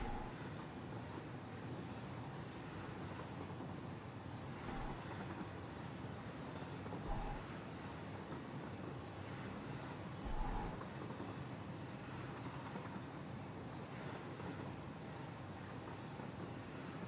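A steady, continuous rumble of a train rolling along rails, even and moderately loud throughout with a few faint clunks, no voices.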